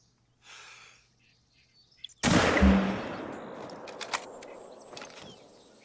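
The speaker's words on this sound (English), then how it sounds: "That sounded pretty realistic as far as gunshots go." Rifle gunshot in the Hunter: Call of the Wild hunting game, aimed at a whitetail deer: a single loud, sudden crack with a long rolling echo that fades across an outdoor landscape, after a brief stretch of quiet talk.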